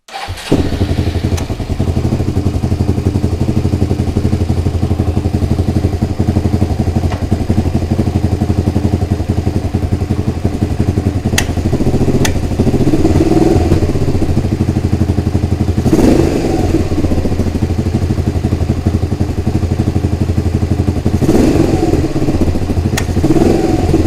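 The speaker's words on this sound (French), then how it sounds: "je vais la refaire tourner un peu juste pour remplir les cuves" A Suzuki SV motorcycle under restoration, with carburetors being synchronized, idles steadily and loudly up close for the whole stretch, a deep continuous engine rumble with a few light clicks and thumps, no talk.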